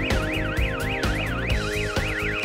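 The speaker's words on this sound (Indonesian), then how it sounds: "saklar ini juga kirimkan sinyal frekuensi hingga sirine motor berbunyi" A motorcycle anti-theft siren, set off by a switch in a helmet, wails in a fast, loud up-and-down warble, repeating steadily with sharp pulsing beats underneath.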